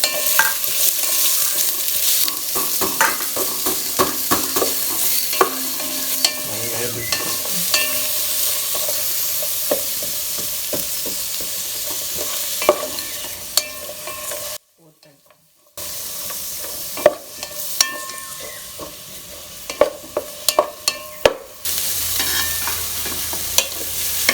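Onions frying in a pan for a South Indian tomato bath, sizzling steadily with frequent close scraping stirs and clanks, a brief silent break midway, then continuing.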